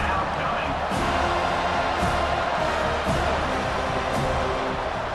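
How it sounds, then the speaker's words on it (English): A college football stadium crowd roars for the defense on third down at an LSU versus Florida State game, a loud, steady wall of cheering with a commentator talking over it. "Decibels rising as the crowd gets behind this defense on 3rd down"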